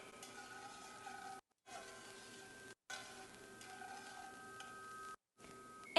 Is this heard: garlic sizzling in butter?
yes